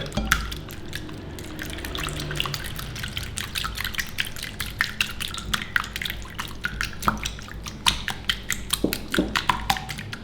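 Eggs whisked together with water in a bowl, seasoned with salt, powdered stock and ground pepper, making a steady run of light rapid taps and clicks with small liquid splashes, close and fairly quiet.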